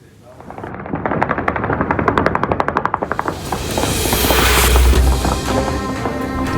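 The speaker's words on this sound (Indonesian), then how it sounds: "Tembakan terdengar di seluruh Beirut, Lebanon." Celebratory gunfire into the air over Beirut, Lebanon, marking a ceasefire: rapid bursts of automatic fire crackle in loud strings, then give way to a steadier roar with scattered distant shots and a low rumble.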